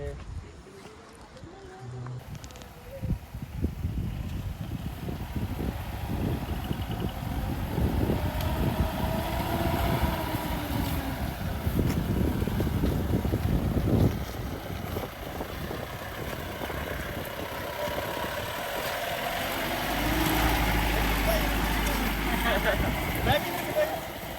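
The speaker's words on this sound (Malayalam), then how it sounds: "നല്ല കാറ്റൊക്കെ ഉണ്ട് ഇവിടെ. നല്ല കാറ്റെന്ന് വെച്ചാൽ നല്ല കാറ്റ്." Strong wind buffets a hilltop viewpoint at Nelliampathi, a steady broadband roar with gusts that swell and ease over about twenty-four seconds, close and loud, with people talking underneath at times.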